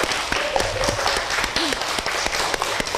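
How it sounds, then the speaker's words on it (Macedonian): Applause from a studio audience at a children's TV show as the winning team is announced, a dense wash of clapping throughout, with faint voices underneath. "Аплауз."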